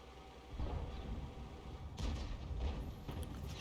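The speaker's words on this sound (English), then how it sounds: "he's still firing heat now" A tank gun firing HEAT rounds in a tank game, its deep boom heard twice a couple of seconds apart, each blast followed by a rumbling tail over steady background noise.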